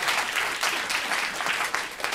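Studio audience applause, a dense continuous patter of many hands clapping in a room, steady and moderately loud from start to finish with no talk over it.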